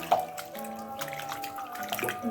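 Fresh fenugreek leaves are swished and washed by hand in water, giving faint, close splashes and drips in quick irregular bursts.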